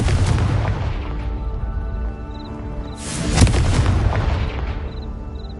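Confringo fire spell blasting in Hogwarts Legacy, a deep booming explosive burst with rumbling crackle, loud and close, a second bigger blast hitting around the middle with a lingering roar and faint magical chimes.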